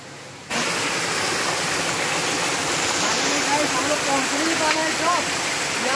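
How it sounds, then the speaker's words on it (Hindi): Broadband steady rush of Turturi waterfall in Patua, constant and fairly loud, with faint bird-like chirps over it and no talking. "फाइनली गाइस हम लोग पहुंच चुके हैं टुरतुरी वाटरफॉल जो कि हम लोग का पटुआ में जिले से पड़ता है"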